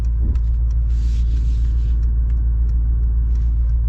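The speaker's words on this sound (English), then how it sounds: "you just can't beat that V8 sound." A deep, steady V8 engine rumble from a 2025 Mercedes-AMG GLE 63 S idles close by, low and throaty, with faint clicks and a brief hiss over it.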